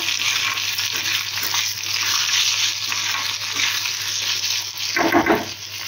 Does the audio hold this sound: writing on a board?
no